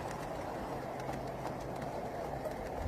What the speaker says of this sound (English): This passing train is just an example of some of my collection of large 20th scale model trains.